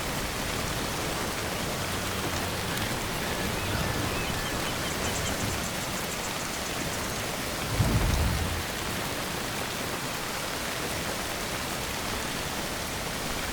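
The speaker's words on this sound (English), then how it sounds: "They did an amazing job on the rain in this game." Steady, dense video game rain pours down throughout, with a brief low rumble of thunder rolling in near the middle.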